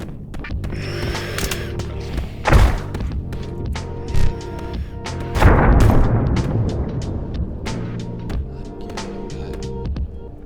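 A grenade goes off in a horror theme-park shooter: a couple of sharp booming blasts stand out among mechanical clanks and scattered gunshot-like hits over a busy game soundscape.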